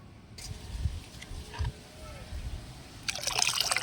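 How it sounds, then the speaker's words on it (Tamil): Water is poured into four liters of fertilizer solution to bring it up to five liters. A steady, splashing gush swells loudly toward the end, with low thumps and faint trickling before it. "இதில் இன்னொரு லிட்டர் தண்ணி ஊற்றி அஞ்சு லிட்டர் ஆக்கிக்கலாம்"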